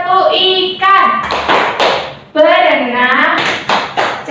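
Children in a classroom play the 'tepuk ikan' hand-clapping game, chanting together while sharp, rhythmic claps land in short bursts between the sung words.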